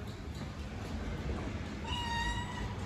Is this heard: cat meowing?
yes